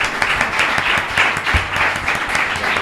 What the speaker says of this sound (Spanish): Borja Franco, un aplauso.